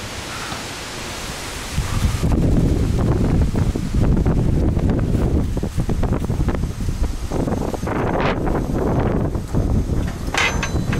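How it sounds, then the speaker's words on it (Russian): Strong wind batters the microphone beside a car-carrier truck on the road, a quieter start giving way after two seconds to loud, continuous low-frequency buffeting with gusty surges. "Ребята, ветер жесткий будет местами."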